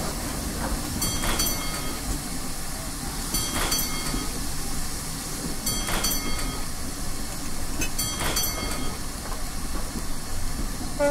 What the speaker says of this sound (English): Then the train just goes.